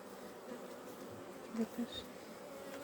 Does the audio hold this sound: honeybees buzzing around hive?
yes